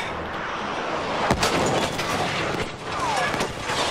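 Rocket fire and explosions in Battlefield V, North Africa, burst out as a sharp blast followed by rolling gunfire and further cracks, loud and dense throughout.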